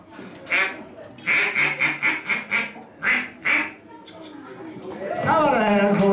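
A man on a live radio show imitates a duck call with his voice, giving a rapid run of loud, nasal quacks in short rhythmic bursts, then a pause before voices and crowd noise rise at the end.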